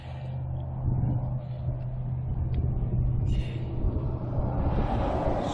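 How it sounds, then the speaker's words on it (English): Busy road traffic beside a gate installation site, a continuous low rumble of passing cars and heavier vehicles with a brief hiss, moderately loud and steady throughout. "Sorry about the road noise, busy road today."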